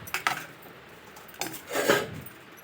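A spoon scrapes and knocks against a cooking pot while gongura dal is stirred, a few soft rubbing strokes and light clinks, close and quiet.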